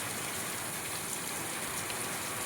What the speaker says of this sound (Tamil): செம்ம மழைங்க, வெளியில் போக முடியல, உள்ளே தான் நிற்கிறேன்.